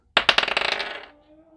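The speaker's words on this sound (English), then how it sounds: "All right, so let's roll the dice." Dice clatter onto a surface, a quick burst of sharp rattling clicks that tumble fast and die away within a second, close and loud with no talk.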